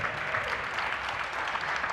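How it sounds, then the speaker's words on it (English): Live podcast audience applauding at an event, a brief, even burst of clapping from a room of people, moderately loud and unbroken. "Let's clap it up for Diane"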